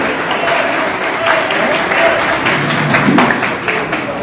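An audience at a ceremony honouring artists and journalists breaks into loud, continuous applause to welcome a mimicry performer. The clapping is close and dense, with crowd murmur mixed underneath.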